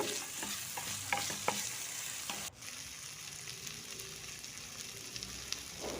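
Cut coconut pieces frying and being stirred in a pan for fish sambar. There is a steady close sizzle, with sharp scraping strokes in the first half, then an even hiss after a brief dip.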